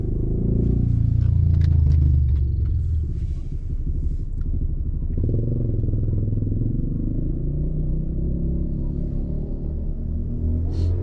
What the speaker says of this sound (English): I'm gonna let that motorbike go,